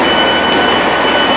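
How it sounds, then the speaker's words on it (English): A passenger train pulls into a station, heard as a loud, steady broadband rumble of rolling stock with a faint high wheel squeal running throughout. "Is my train coming in right now? Yes, it's just pulling in right now."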